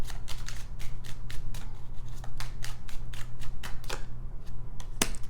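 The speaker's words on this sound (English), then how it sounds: "Okay, I'm just going to pull cards first before I say anything else." Tarot cards being shuffled and pulled by hand, a rapid run of crisp riffling flicks and slaps that thins out near the end with one sharp snap, close and alone without talking.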